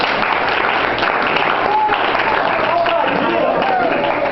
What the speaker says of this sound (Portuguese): Muito bem, uma salva de palmas.